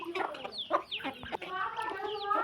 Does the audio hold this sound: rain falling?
no